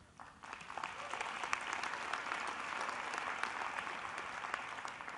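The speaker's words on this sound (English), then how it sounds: "I got to tell you, I love all this applause." Audience applause at a nonprofit charity gala ball, a steady wash of many hands clapping that builds and holds throughout without voices.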